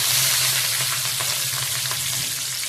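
Green chillies and curry leaves sizzle steadily and loudly in hot oil on a high gas flame, a dense crackling hiss that continues unbroken throughout.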